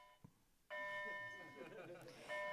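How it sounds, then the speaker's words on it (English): High school bell rings in a building, a loud, sustained electric ring that starts abruptly after a brief quiet moment and keeps going to the end, with faint talking underneath. "The beauty of high school, there's still bells."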